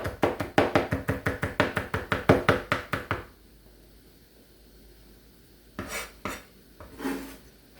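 A cleaver chops garlic on a cutting board in a home kitchen while cooking beef with broccoli, a fast run of about fifteen sharp, even knocks followed by a pause and three scattered softer taps.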